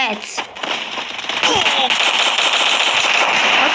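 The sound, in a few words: gunfire in the video game Free Fire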